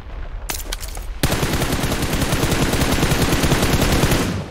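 Rapid automatic gunfire in PUBG Mobile, a short burst followed by a sustained, loud stream of close shots lasting several seconds.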